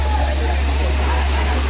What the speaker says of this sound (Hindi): ये देखो कितना ऊपर से पानी गिर रहा है